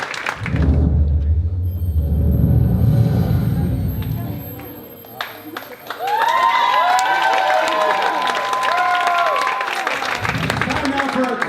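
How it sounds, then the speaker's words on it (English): Audience applause and cheering fill an awards night hall in Port Coquitlam, with loud crowd noise and shouting, a brief dip midway, then sustained clapping with high excited cheers and whistles. "How about a round of applause?"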